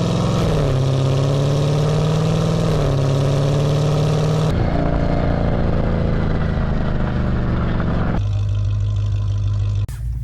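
A 1000hp Jeep Trackhawk engine recorded right at the exhaust, loud and close, with a deep rumbling idle broken by blips and revs that shift its pitch in several distinct stages.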